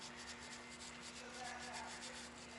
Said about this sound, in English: just clean it out with the brush to get all the major buildup off